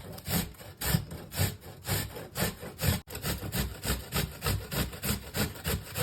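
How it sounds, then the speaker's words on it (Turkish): Beetroot being grated on the coarse side of a hand grater, a steady run of close rhythmic rasping strokes, about two per second, with no talking. "rendemizin kalın tarafıyla yıkadığımız pancarlarımızı rendelemeye başlıyoruz"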